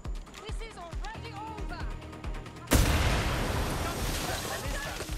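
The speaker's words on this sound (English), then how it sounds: "Shots fired, shots fired." Gunfire erupts in the video game Watch Dogs: Legion, a sudden loud burst of rapid shots that keeps crackling densely after a stretch of game voices talking.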